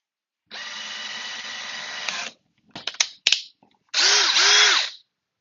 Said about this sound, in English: I think I'm going to use this 5/64 drill bit